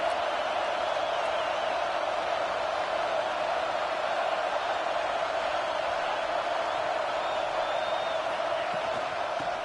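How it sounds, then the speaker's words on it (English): Early-game roar of a football stadium crowd, a continuous wash of cheering and noise from thousands of fans, steady and fairly distant with no breaks or clear individual voices. "It's early, but this crowd is fired up. Listen to this noise here."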